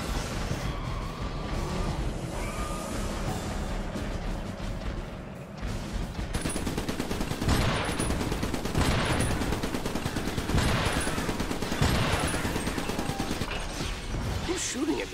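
Rapid bursts of video game gunfire and mechanical clatter run almost continuously, loud and close, with repeated volleys layered over a dense battle din.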